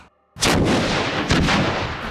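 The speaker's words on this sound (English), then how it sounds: "real-world sewer explosion, best case scenario, sparking in 3" A sewer explosion set off by sparking near a storm drain erupts suddenly after near silence as one loud, deep blast, followed by a second boom and a sustained roaring rumble.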